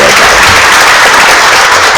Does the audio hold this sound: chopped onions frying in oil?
no